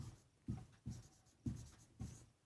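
Pen strokes scratch across paper while cumulative frequency is written out in a maths lesson, five short soft scraping bursts spaced about half a second apart, faint and close with no talk over them.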